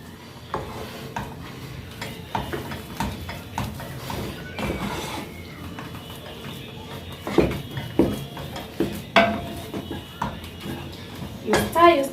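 A wooden spoon works thick Kenyan ugali in a pot, giving irregular knocks and scrapes against the pot's sides and bottom, with someone talking over the stirring.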